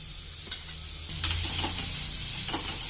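Finely chopped onions with curry leaves fry in a pan for horsegram sabzi, a steady close sizzle broken by a few sharp scrapes and stirs of a spoon.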